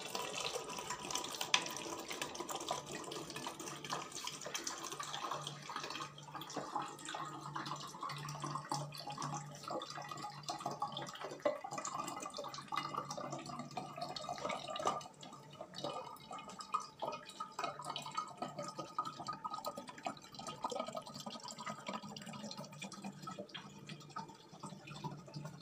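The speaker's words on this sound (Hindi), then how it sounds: "तो गाइस इस विनेगर को हम डालेंगे इस बोतल के अंदर" Vinegar poured into a bottle, a steady trickling, gurgling liquid stream lasting around twenty-five seconds at moderate, even loudness with no talk.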